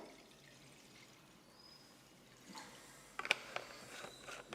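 Water poured into a pan to boil cauliflower, heard as a quiet, close trickle and splash that starts after a near-silent stretch and grows louder toward the end.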